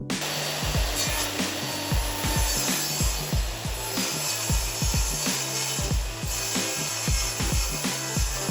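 Saw ripping an extra millimeter or two off the edge of a flooring board beside its tongue, a steady loud broadband whine with a dense rapid buzzing texture running continuously throughout.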